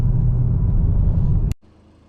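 Deep, steady rumble of a refreshed 2025 Volkswagen Golf R engine with road noise during a 0-60 run, loud and continuous, then cutting off abruptly near the end to a quiet hum.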